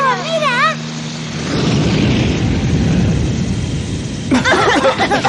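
Helicopter flying in a 1991 animated series, a loud, steady rotor and engine roar building up in the middle, with voices talking at the start and end.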